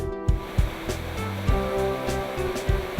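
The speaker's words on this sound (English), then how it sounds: "This is the Fairy's Hair waterfall." The Fairy's Hair waterfall in Rastoke, Slunj, pours as a steady rushing spray of falling water, loud and close, with a rhythmic thumping underneath.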